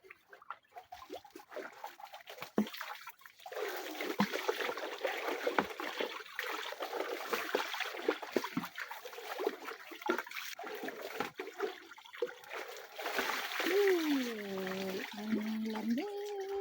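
Water trickles steadily in a forest stream with a well, a soft continuous flowing wash heard up close, with a faint voice-like tone near the end.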